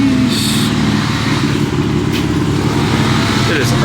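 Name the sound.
BMW M4 being driven into a driveway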